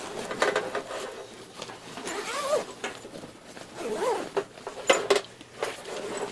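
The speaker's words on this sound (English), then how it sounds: "And then over here, we have to find the zipper for that." Zipper on a travel laptop backpack is pulled in several short, rasping bursts, mixed with fabric rustling and handling clatter close by.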